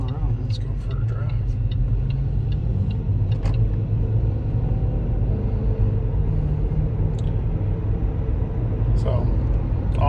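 Inside a Range Rover on the road, a steady low engine and road rumble fills the cabin, with a few faint high ticks and rattles over it.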